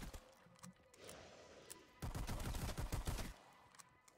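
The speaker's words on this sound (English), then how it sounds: "God, I love the way the Walther sounds." Walther gun firing in Black Ops 3 custom Zombies, a rapid burst of close, loud gunshots in the second half, preceded by quieter game noise.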